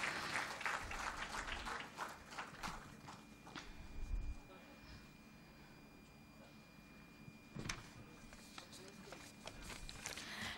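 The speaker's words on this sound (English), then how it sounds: "Please give them a big round of applause." An audience at a conference applauds in a burst of clapping that fades after a few seconds, followed by footsteps, shuffling, and another brief knock and clap flurry later.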